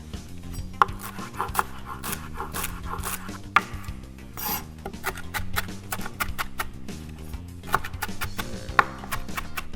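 A knife chops fresh parsley for a lentil, chickpea and orzo salad, the blade striking the board in uneven, fairly close taps over steady background music.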